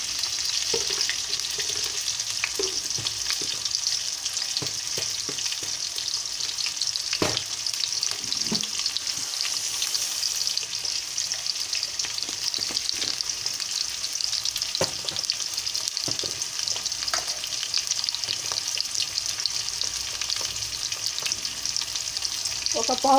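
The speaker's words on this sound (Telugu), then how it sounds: "ఆనియన్స్ వేగాలంటే ఉప్పు వేస్తున్నానండి." Onions frying with salt in a pan for a ridge gourd curry, a dense continuous hiss of sizzling oil close up, with occasional scrapes and taps of a stirring spatula.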